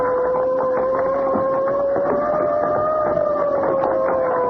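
A police boat siren in an old-time radio drama wails loudly and steadily, its tone rising and falling slightly throughout, with no voices.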